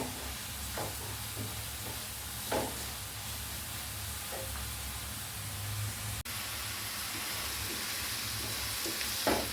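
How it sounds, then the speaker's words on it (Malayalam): Onions frying in a pan for a cheera and achinga (amaranth and long bean) curry, giving a soft, steady sizzle with scattered light stirring taps and one sharp clack midway. "സവാള നന്നായിട്ട് മൂക്കട്ടെ കേട്ടോ"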